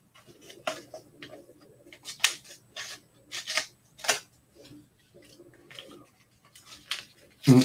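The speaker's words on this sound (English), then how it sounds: "So I'm just going to try and carefully open it with scissors." Several sharp snipping cuts in irregular bursts, close by, with faint rustling of packaging between them and a louder clunk at the end.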